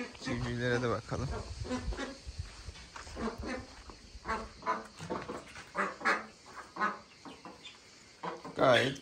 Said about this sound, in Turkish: Civcivlere de bakalım.